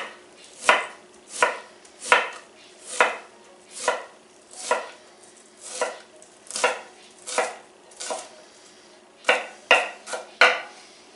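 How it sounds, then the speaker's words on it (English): An onion being chopped with a knife on a cutting board while chili is being made, heard as a steady series of about fifteen crisp, close knocks, evenly paced with a short pause near the end, with no talking. "So we'll just chop up some onion."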